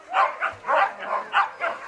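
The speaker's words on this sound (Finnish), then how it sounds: "Mulla on täällä 19 Siberian Huskia." Several Siberian Huskies at a husky kennel bark in a quick run of about six loud, close yaps with short gaps between them.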